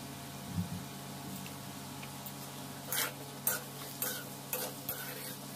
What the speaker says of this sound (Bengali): নুনটা দিয়ে একটু ভালোভাবে এটাকে আমি ফ্রাই করে নেব